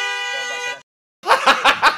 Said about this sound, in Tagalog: bumusina na yung sa likod, nagagalit na